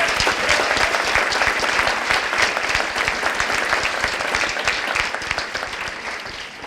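Loud, dense audience applause at a county address in a new county facility, sustained and close, easing slightly near the end.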